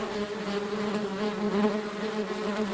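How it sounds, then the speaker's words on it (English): A huge swarm of crickets taking off, a dense continuous insect buzz with a fast pulsing flutter and a high whine over it, loud and close, no voices. "A million crickets take off, satisfied."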